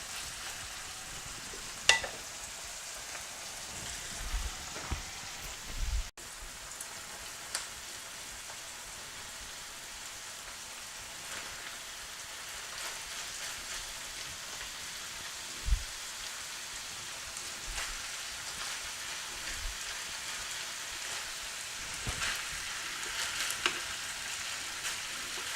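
Rice sizzling in a hot pan for Chinese-style rice, a steady close crackle like light rain with occasional louder pops and clinks of stirring, no talking.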